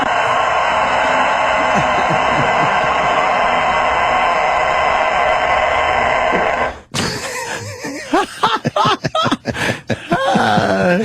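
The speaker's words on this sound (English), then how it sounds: "Yes, that is a fucking rooster." A rooster crows through a long, loud, sustained stretch played on a radio talk show. Then comes an abrupt cut to busy, choppy sounds that may be laughter or voices.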